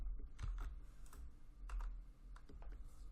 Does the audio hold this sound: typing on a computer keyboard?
yes